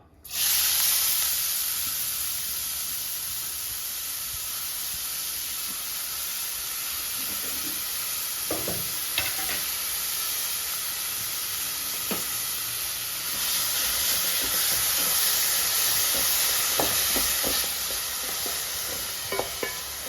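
Onions sizzle in a little oil in a pan for Kerala-style kalmas, a constant bright hiss with scattered clicks and occasional spatula taps throughout.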